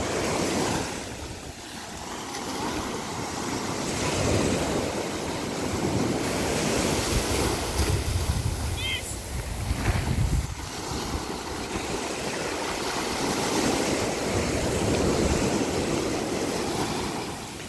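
At Candelaria Beach Resort, ocean waves crash and wash ashore in a continuous loud roar, with rolling surges and gusts of wind buffeting the microphone.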